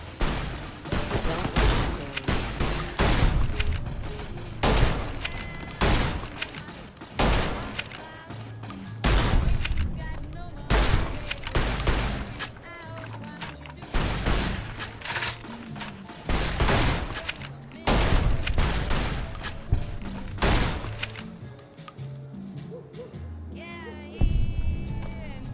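Rapid, dense gunfire in Fallout: New Vegas, bursts of loud shots in quick succession with brief pauses between volleys, close and punchy throughout.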